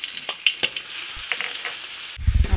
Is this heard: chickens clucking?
no